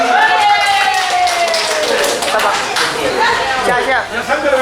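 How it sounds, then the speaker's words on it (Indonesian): A parish festival audience at a mass chess event claps together in a steady patter of hand claps, with voices talking over it throughout. "Ya, kita tepuk tangan."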